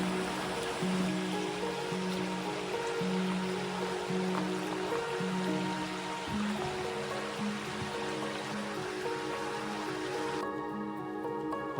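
A small river, the West Wetham in Devon, flows with a steady, close rushing and babbling wash that runs unbroken throughout, with no voices.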